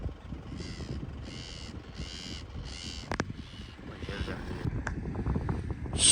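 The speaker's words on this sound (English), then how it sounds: "These are some of the birds that you'll find at the sea." Seabirds call near the sea in a rhythmic series of harsh, caw-like cries, loud and close, over blustery wind noise and a low rumble.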